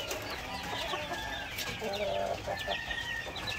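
Layer hens cluck steadily while eating feed set out in a feeder, several birds murmuring and clucking close by in a continuous, busy farmyard chatter with no talk.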